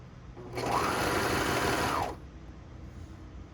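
Serger sewing machine runs in a single fast, even whirring burst for about one and a half seconds while stitching dress fabric, then stops, leaving quiet room noise.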